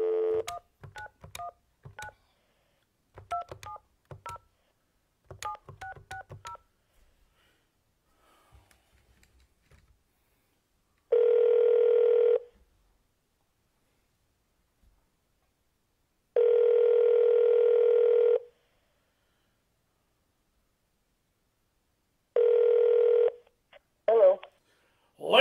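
A phone call being placed to bring a guest onto a sports podcast: a quick run of touch-tone dialing beeps, then three long steady ringback tones separated by silence, loud and clean.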